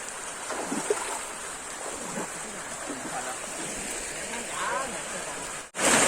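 Steady rain pouring down with a dense hiss, close and continuous, broken by a brief dropout near the end.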